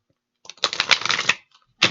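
Tarot cards riffle-shuffled in one close, loud burst of rapid flutters lasting under a second, followed by a brief soft tap and another short start of shuffling.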